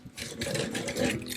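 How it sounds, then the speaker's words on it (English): Whisking white sugar and vanilla sugar together in a bowl, a steady, close, fairly loud rhythmic scraping and whirring that runs continuously with no talk. "And we whisk everything together."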